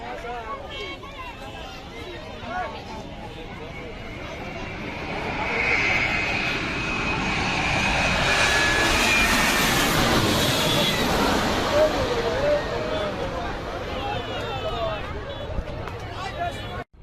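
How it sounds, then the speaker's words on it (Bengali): An EgyptAir Boeing 787 Dreamliner approaches the runway at Dhaka airport, its engine roar swelling from far to loud and sweeping past overhead, then slowly fading, with people talking underneath. "দেখতে পাচ্ছেন এগিয়ে আসছে ড্রিম লাইনার"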